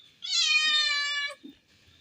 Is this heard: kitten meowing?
yes